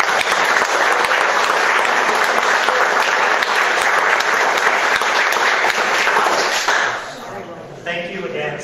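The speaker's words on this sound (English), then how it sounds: "round of applause for him." Sustained, dense audience applause filling a room after a guest is introduced for a community history program, steady and loud before tapering off near the end, with a few voices surfacing as it fades.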